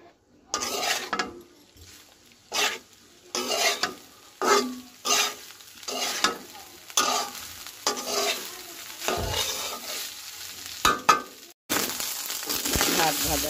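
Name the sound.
stir-frying leftover rice in a pan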